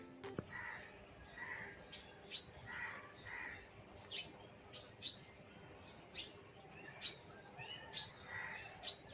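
Small birds calling in a home garden, sharp high chirps repeating at a steady pace, clear and fairly near, with quieter softer notes between them and no talking.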